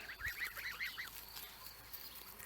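Several grazing geese honk in a short burst of nasal calls, then fall quiet, leaving a faint outdoor hiss in the background.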